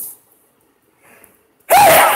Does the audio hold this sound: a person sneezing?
yes